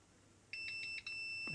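A multimeter beeps steadily during a continuity test on a Suzuki LT50A quad switch, a loud tone starting partway in with a brief dropout, heard close over faint background noise.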